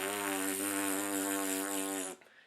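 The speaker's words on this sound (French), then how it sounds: "par le principe de faire une vibration lorsque l'on souffle avec nos lèvres, ça va nous faire un son" Lips buzz into a French horn mouthpiece, making a steady, loud, reedy drone that holds for about two seconds before cutting off sharply, and no one speaks.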